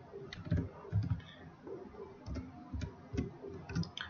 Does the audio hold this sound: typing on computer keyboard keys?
yes